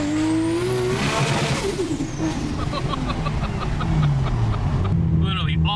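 An 1100 hp RB26 engine in a Nissan Skyline R34 GT-R screams up through the gears on the street, loud and close, with wind and road rumble underneath.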